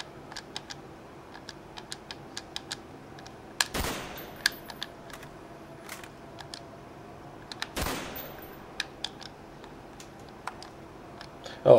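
Rifle gunfire in a PlayStation 3 video game: two sharp, loud shots about four seconds apart, each with a short decaying tail, over a bed of light ticking and clicking sounds, with no talk.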